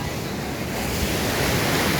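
Sea waves surge and roar around a person standing in the surf at a beach in Goa, a loud continuous wash of water mixed with wind buffeting the microphone.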